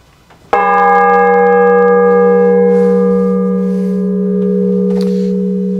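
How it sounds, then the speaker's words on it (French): A single clapper stroke on a church bell in Châlons cathedral, struck once and left to ring, its bright metallic tone sustaining loudly and decaying slowly over several seconds. "soit en tintant, donc c'est simplement un petit coup avec le battant de la cloche qui sonne"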